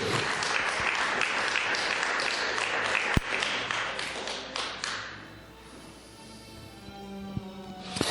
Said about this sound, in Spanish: Del aplauso al Eterno.